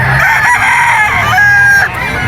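A gamefowl rooster, a golden boy crossed with super brown red, crows loudly and close at a pet market, one sustained cock-a-doodle-doo with a rising then falling call.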